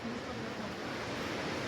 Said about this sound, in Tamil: இதா உங்களுக்கு ஒரு சின்ன அருவி பக்கத்தில்